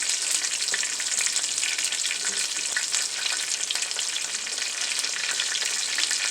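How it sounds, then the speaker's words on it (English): Small-headed, washed cabbage goes into a pan of sweated onions and peppers, sizzling with a dense, even frying hiss that stays close and constant without pause. "So now it's time to add this cabbage."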